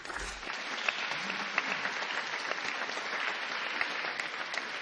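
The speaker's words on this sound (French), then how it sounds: "Merci Emma, on peut l'applaudir." An audience at an Armistice Day commemoration claps in steady, sustained applause that fills the whole moment with no talk.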